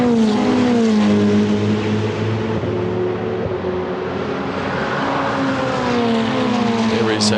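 Ferrari 488 Challenge race cars at Monza, engines droning loudly and steadily as they brake and downshift, a continuous near roar with shifting engine tones and a brief higher whine near the end.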